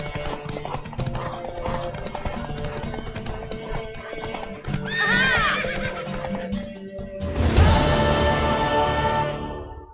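A horse in The Witcher 3 gallops with steady rapid hoofbeats under game music, neighing partway through and then giving a loud, close whinny near the end.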